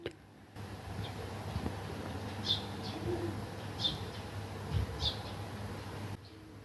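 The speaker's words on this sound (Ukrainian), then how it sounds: "Так пташки співають." Faint birds call on a quiet spring morning outdoors, with a few soft chirps and cooing notes spaced a second or so apart over low background hum.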